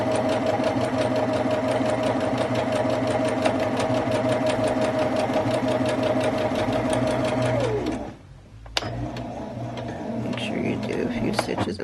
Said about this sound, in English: Backstitch first all the way, and then go in and sew at a 1/4 inch seam allowance.